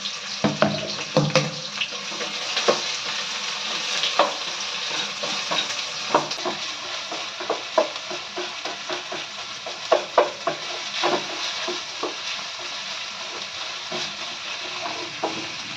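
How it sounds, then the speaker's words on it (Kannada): Onion, curry leaves and green chillies sizzle in hot oil with popping mustard seeds, a continuous close frying hiss broken by irregular stirring scrapes and clatters. "ಸಾಸಿವೆ ಚಿಟ್ಲಿದಾದ್ಮೇಲೆ ಆನಿಯನ್ನು, ಕರಿಬೇವು ಮತ್ತು ಹಸಿಮೆಣಸಿನ್ಕಾಯಿ ಹಾಕ್ತಾ ಇದ್ದೀನಿ"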